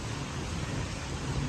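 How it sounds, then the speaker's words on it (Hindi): Heavy monsoon-style rain pours down in a steady, dense roar of hiss and patter that stays at an even level throughout, with no voices. "देख सकते हैं बारिश काफ़ी तेज़ हो रही है"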